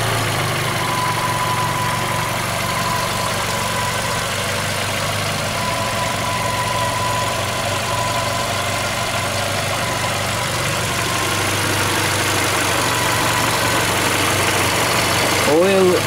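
Steady idle of a VW Golf 5 with a 1.6 petrol engine near 200,000 km, heard close with the hood open, humming evenly throughout with a faint clunk near the end.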